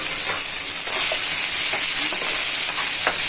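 Black pepper frying in a hot pan for duck curry, giving a steady, close sizzle and hiss with occasional soft pops and stirring scrapes, heard alone.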